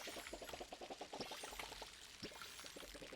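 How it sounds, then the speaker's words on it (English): Water pouring and trickling steadily outdoors near plants and flowers, a continuous splashing stream with quick repeated droplet patters, moderately close and alone without talk. "Can you all hear the water?"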